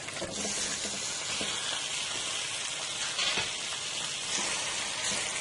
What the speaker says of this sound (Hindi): अदरक लहसुन हमारा भून चुके हैं, अब हम इसमें अपना चिकन डाल देते हैं।